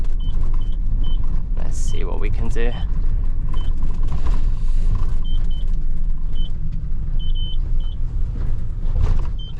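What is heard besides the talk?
Tesco delivery van manoeuvring to park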